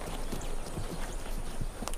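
Horse hooves clip-clop at a steady walking pace, a few soft knocks over a continuous outdoor hiss, fairly distant and low in level.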